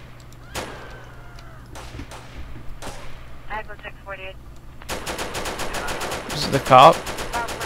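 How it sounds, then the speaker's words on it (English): Gunfire in a police patrol game set in Florida: scattered single shots early, then a dense, loud stream of rapid automatic fire, with someone talking over it. "Who's shooting now?"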